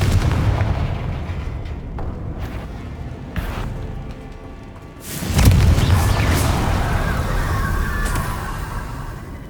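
Booming fire spell blasts from Confringo in the Hogwarts Legacy video game, a heavy burst near the start, another around three seconds, and a loud explosion at five seconds that rumbles on with crackling debris.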